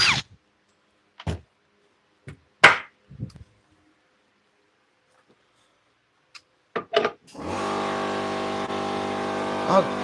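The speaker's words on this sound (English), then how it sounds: "Oh, damn air compressor." A workshop air compressor kicks on and keeps running with a steady, loud mechanical drone, preceded by scattered clunks and knocks in an otherwise quiet room.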